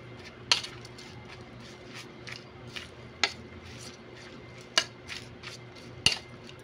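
Metal utensils clink sharply against a bowl while sweet potato leaf salad, just seasoned with pepper, is tossed and stirred, giving about six scattered, distinct taps over quiet room tone with no talking.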